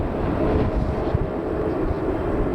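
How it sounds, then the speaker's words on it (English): An Etihad Airways Boeing 777 airliner bound for Abu Dhabi at Manchester Airport gives off a loud, steady, broad jet-engine roar that holds without break and stands alone. "So this 777, it is an Etihad Airways going to Abu Dhabi"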